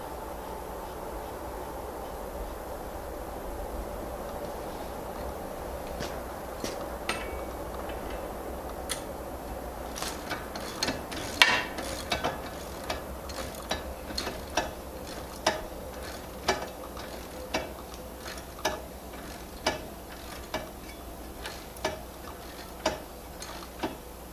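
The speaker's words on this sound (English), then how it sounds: "Let's get the nut on." Propeller nut being tightened on a 2019 Mercury Pro XS 175 outboard's lower unit, a steady run of sharp ratcheting ticks at an even rhythm, close and clear with no talk.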